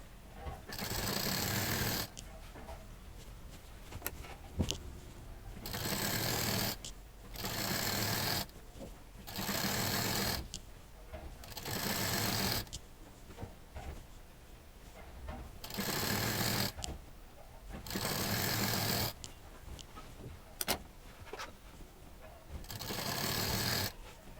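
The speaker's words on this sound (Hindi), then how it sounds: "यहाँ से इसको हम पूरा सिलाई कर देंगे" Sewing machine stitching a folded saree into a bedsheet, running in steady bursts of a few seconds separated by short pauses, loud and close, with no talk.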